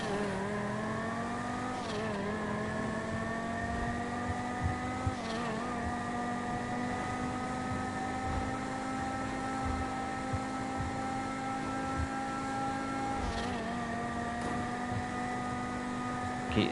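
A car drives fast in GTA, its engine holding a steady high drone that steps up through a few gear shifts, moderately loud and without talk.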